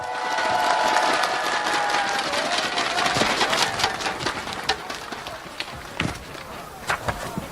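Large crowd at an outdoor Democratic Party presidential campaign rally in Daegu applauding and cheering, a dense roar of clapping that swells early and then slowly tapers off into scattered claps.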